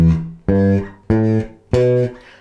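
Four evenly spaced quarter notes plucked on a bass guitar, each a deep, full tone held briefly before the next, played solo up close.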